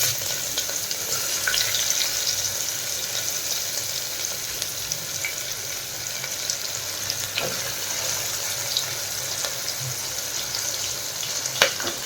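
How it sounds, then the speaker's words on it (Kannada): Vegetables fry in a pan with cumin and turmeric, giving a steady, even sizzle that stays close and constant throughout, with a few faint clinks of stirring and no talk. "ಇವಾಗ ಮುಂಚೆನೇ ಕಟ್ ಮಾಡಿಟ್ಕೊಂಡಿದ್ವಲ್ಲ ತರಕಾರಿ ಎಲ್ಲನೂ ಹಾಕ್ಕೊತಾ ಇದ್ದೀನಿ"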